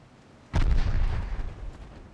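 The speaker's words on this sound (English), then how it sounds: "You've launched your torpedoes." Torpedoes firing from warships in a 1946-era naval combat game, a sudden loud low burst that erupts and then rumbles and crackles on without pause, fading slowly.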